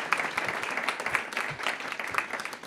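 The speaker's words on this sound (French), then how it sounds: "Je pense que vous pouvez les applaudir." An audience claps for three women researchers, steady and fairly close, with a busy wash of many hands sustained throughout.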